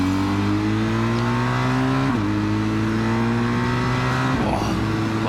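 A BMW GS 1250 trail motorcycle accelerates hard on an open road, its engine note climbing loudly up close before dropping briefly at each of two gear changes.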